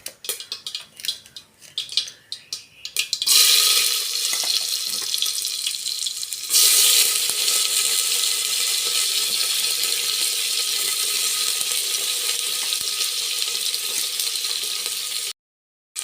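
Shallots, curry leaves, dried red chillies, garlic, cumin, pepper and coriander seeds hit a hot pan for kollu kadayal. A few clatters come first, then a loud, steady sizzle starts suddenly, swells further and cuts off near the end.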